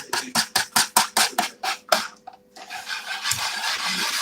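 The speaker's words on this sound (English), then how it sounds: "So now we're stirring this, and I'm going to quickly whisk it, but I don't want to spill." Caramel treat mixture whisked quickly by hand in a bowl, with about ten rapid rhythmic taps and scrapes that then give way to softer continuous stirring.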